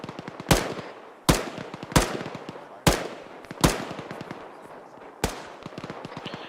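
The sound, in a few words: gunfire with tracers in video game ArmA 3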